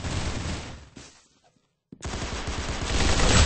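Rapid automatic gunfire in the game Arsenal, loud dense bursts that cut out into near silence around the midpoint, then resume heavier and sustained to the end.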